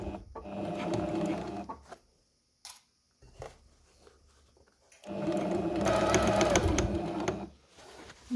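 A sewing machine stitches a pinned fabric assembly 1 cm from the edge while a jacket is assembled, its fast mechanical whirr running in two bursts of steady stitching separated by brief quiet pauses.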